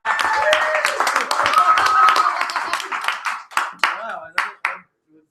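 An audience at a live open mic poetry night claps, a burst of applause that thins into a few scattered, separate claps before fading to silence.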